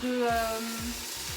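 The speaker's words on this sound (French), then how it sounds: "On va rajouter l'eau pour faire la sauce" Water hits a hot tajine pot holding meat and softened onions, and a brief burst of sizzling hiss rises over a faint tonal hum.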